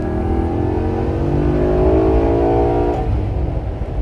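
A 2012 Maserati Quattroporte S engine in sport mode revs up and climbs in pitch, then drops back as it downshifts, loud and close with no voices.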